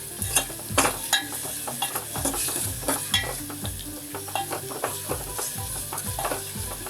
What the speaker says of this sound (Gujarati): અને આપણે સાતળી લેવાનું છે પહેલા.